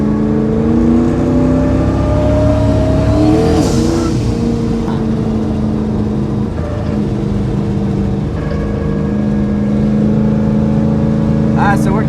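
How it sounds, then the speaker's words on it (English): A turbocharged Coyote V8 engine in an S197 car roars under hard acceleration, the note climbing and shifting through gears, loud and close with a faint whoosh of boost. "The sound of a turbo car coming in boost."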